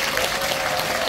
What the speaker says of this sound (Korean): 두 후보님 선전하시라고 승리하시라고 큰 박수 부탁드리겠습니다